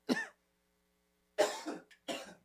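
A person coughs close by: one sharp cough, a pause of about a second, then a couple more rough coughs in quick succession.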